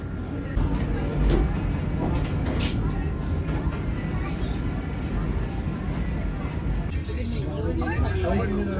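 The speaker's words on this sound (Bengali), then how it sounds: "আমাদের ট্রেন ছেড়ে দিল পুরীর উদ্দেশ্যে।" Inside the Howrah–Puri Vande Bharat Express as it departs Khurda Road station, a loud continuous low rumble of the moving train with rattling, and passengers talking throughout.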